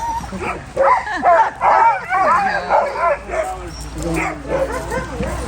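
Several sled dogs in Alaska yip, whine and bark excitedly in overlapping bursts, close by and loud, with continuous eager vocalizing throughout.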